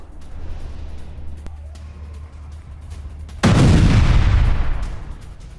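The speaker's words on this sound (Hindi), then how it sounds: "रिहायशी इलाकों में किया गया बारूदी प्रहार।" A blast from a military strike on residential areas in Lebanon: a low rumble gives way to one sudden heavy explosion that booms and rolls on for about two seconds before fading.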